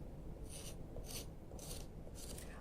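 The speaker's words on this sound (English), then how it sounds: "I'd rather scrape it on the side like this than right onto the picture" Four short, faint rasping scrapes of coloring material being scraped onto the side, evenly spaced about half a second apart, quiet and alone.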